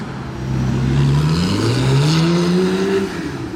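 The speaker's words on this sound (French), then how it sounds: "cette Porsche ne voulait pas qu'on entende le V10 de la R8. merci pour le downshift" A Porsche downshifts with a sharp engine blip while an Audi R8 V10 sweeps through a Monaco hairpin, loud close car engines rising and falling in pitch over a steady roar for several seconds.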